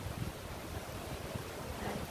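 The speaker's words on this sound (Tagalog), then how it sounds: "Kahit malakas ang hangin" Steady, loud typhoon wind buffeting the microphone, a continuous rushing roar with low rumbling gusts and a faint surf-like wash throughout.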